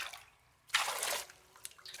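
Water poured into a pot for boiling potatoes makes a short, close splash and gurgle of about half a second, surrounded by quiet kitchen sounds and a faint drip.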